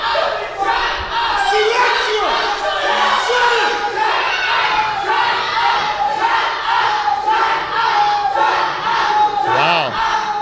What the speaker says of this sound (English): The crowd is really hot.